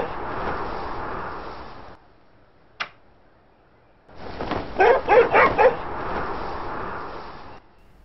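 Cartoon dog barks from The Simpsons: Tapped Out mobile game, a quick burst of several yaps and yips in the middle, with a steady game backdrop before and after and a brief pause of near silence.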